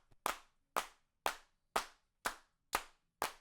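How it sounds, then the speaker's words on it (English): Seven crisp, evenly spaced hand claps on a pop/R&B mix, each a sharp bright snap with a short decaying tail, sounding dry and close with near-silence between hits. "Let's see what these hand claps are doing."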